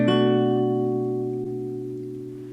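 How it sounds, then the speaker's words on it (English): A minor 7th chord strummed once on an acoustic guitar rings out with sustained harmonics, with a light string bump partway through, decaying slowly with no voice present. "Now the minor 7 chord sounds like this."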